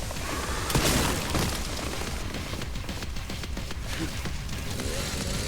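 A video-game explosion in Resident Evil Requiem, a loud booming burst near the start that fades into a dense rumbling, crackling wash, with no clear talking.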